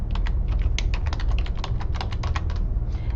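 Typing on a computer keyboard, a steady run of quick close clicks across the whole stretch with brief gaps, alone with no talk over it.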